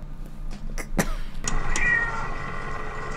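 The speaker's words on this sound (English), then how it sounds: "don't go looking for the cat, though" A cat meows in the 1979 film Alien, a short plaintive call amid sharp clanks and knocks, followed by a steady mechanical hum.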